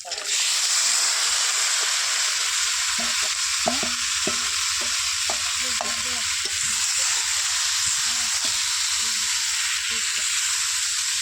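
A katla fish head fries in hot oil with turmeric and salt, giving a steady loud sizzle throughout, with stirring taps and scrapes in the middle and talking underneath.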